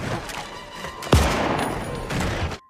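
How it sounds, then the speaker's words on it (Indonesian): Gunfire in a violent scene from the horror film Scream 7: one sharp, loud shot cracks out partway through, set against a dense, noisy background that carries on until an abrupt cutoff. "Sydney menembak Marco tepat di kepala hingga tewas"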